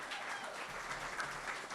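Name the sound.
applause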